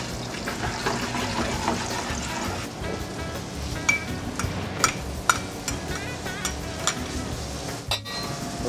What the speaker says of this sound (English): I'm gonna put my butter in. And I'm just gonna whisk it in there.